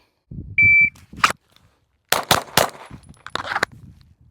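Glock 19X pistol shots at a range, a few sharp cracks in quick succession after a short electronic timer beep.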